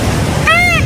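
Ocean waves from a sleep-sound setting give a steady, loud broadband wash, with a brief high tonal call rising over it midway through.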